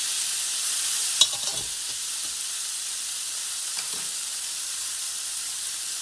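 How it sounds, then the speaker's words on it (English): Cooked pasta is tossed into a pan of frying bacon, giving a steady close sizzle with a couple of stirring scrapes and knocks near the start. "So the pasta goes into the bacon"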